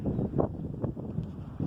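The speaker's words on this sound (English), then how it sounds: "It is quite windy up here." Wind buffets the microphone high up at Kenilworth Castle, a steady low rumbling roar with slight surges and no voices.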